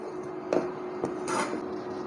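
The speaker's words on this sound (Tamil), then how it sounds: "உள்ளே சேர்த்துட்டு ஒரு தடவை நல்லா கலந்து விட்டுருங்க" Mango buttermilk curry (mor kulambu) being stirred in a pot, with a few soft utensil knocks against the pot and a brief louder scrape near the end, fairly close and quiet with no talking.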